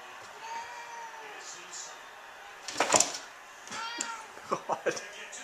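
A cat meows a few times in short, quiet calls in a kitchen, with soft indoor bumps from a cabinet and faint background sounds around them.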